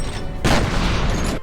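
A rocket launcher fires in the F.E.A.R. shooter game: a sudden loud blast partway through, following a rumbling lead-in, with a roaring tail that carries to the end.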